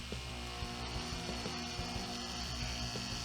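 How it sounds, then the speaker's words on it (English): A Haier air conditioner, just plugged back in after a noisy fan bearing was replaced, runs with its compressor as the loudest element: a steady low mechanical hum with faint repeated clicking ticks, no talking. "The noisiest thing right now is the compressor."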